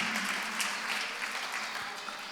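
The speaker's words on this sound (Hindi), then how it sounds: "एक बार उनके लिए भी तालियां बजाएं यहीं से।" An audience at a religious sermon claps steadily, a dense, sustained patter of applause that holds at an even level from start to finish.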